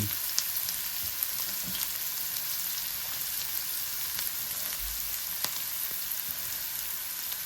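Onion, tomato and garlic frying in a pan for a chicken liver curry, giving a steady close sizzle with faint crackles and occasional sharper pops, and no voices throughout.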